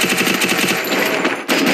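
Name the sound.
gunfire in a shooter video game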